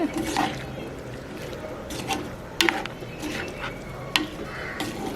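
Beetroot curry being stirred with ground pepper in a pan, soft scraping and wet squishing from the spoon with a low simmering bubble and a few sharp clinks against the pan.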